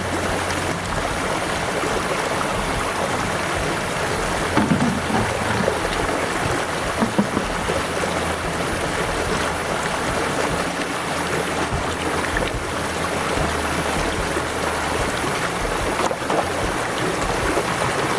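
Gear from gold mining at Blewett Pass in Washington State is rinsed in a stream, giving steady rushing water and splashing that runs throughout, close and fairly loud, with no talking.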